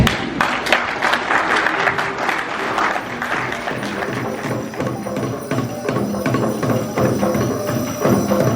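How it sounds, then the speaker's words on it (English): Crowd at a cultural and development meeting breaking into applause, a loud, dense clapping that runs steadily for several seconds, with some voices and cheers mixed in. "Can we give a hand of applause to this man?"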